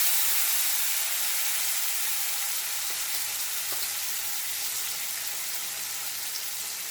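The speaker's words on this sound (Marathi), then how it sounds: "हिंग घालायचा आहे आणि जिरे घालायचे यानंतर हळद घालायची हळदीनंतर हा भोपळा थोडासा टाकायचा" Pumpkin pieces dropped into hot oil already seasoned with asafoetida, cumin seeds and turmeric, giving a steady, even sizzle and frying hiss that runs throughout without any talk.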